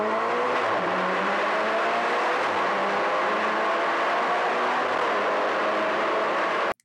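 A Ferrari Portofino accelerating hard through a tunnel, its engine roaring loud and close with rising revs that reverberate off the walls, sustained for the whole stretch before cutting off abruptly.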